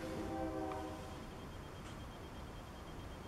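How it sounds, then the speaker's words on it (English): A train horn sounds for about a second, then fades into a low, steady rumble of a passing train. "Train horn."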